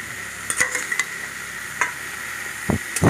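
Fried potatoes added to a pan of spiced banana flower and stirred: a soft continuous sizzle with a few light spatula taps and scrapes, louder knocks at the end, close by.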